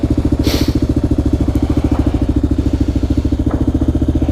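Kawasaki KLR650 motorcycle single-cylinder engine running close by, a loud, even thumping pulse at idle-like steady rhythm, with a brief hiss and faint clicks over the top.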